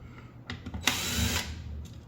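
A screwdriver backs stainless screws out of the plastic front of a Wi-Fi router with a cast aluminum housing. A few faint clicks lead into a short, loud, close whirring burst lasting about half a second, with no speech.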